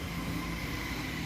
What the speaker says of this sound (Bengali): এই যে ওদের এই ডিজেল ইঞ্জিন দিয়ে ট্রেন একটা ঢুকছে